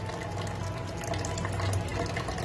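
Water trickles in a weak, steady stream from a filter faucet whose cartridge is clogged, a faint continuous flow with no talking.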